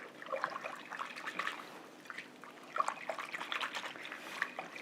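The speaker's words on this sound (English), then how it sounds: "Add it to the gelatin and mix it up till it gets dissolved." Strawberry mixture being stirred into gelatin until it dissolves, with soft liquid swishing and trickling in short, uneven bursts, quiet and close, with no talking.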